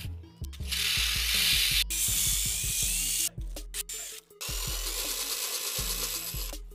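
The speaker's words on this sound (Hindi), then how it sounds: "मैं इसको थोड़ा सा जल्दी करने के लिए ड्रिल के अंदर ही लगा देता हूँ" An electric drill whirs at high speed, spinning a nail against sandpaper to clean it, with a loud continuous grinding whine broken by short stops and restarts and rattling clicks.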